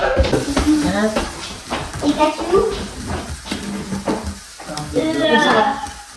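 Ground turkey frying and sizzling in a pan with stirring scrapes and clinks, steady and close, under continuous talking throughout.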